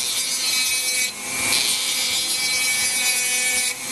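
A Dremel rotary tool grinds a notch into wood while carving an Anso diamond pattern, giving a loud, continuous rasping whine with brief dips in pressure.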